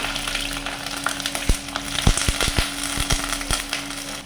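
Onion, green chilli and curry leaves frying in a pan for a banana curry, a continuous sizzle broken by a quick series of sharp crackling pops near the middle, with no talk.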